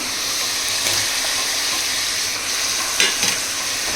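Curry leaves sizzle in hot oil while a tomato and shallot curry is being cooked, a steady broadband crackle with a few sharper spits near the end and no talking.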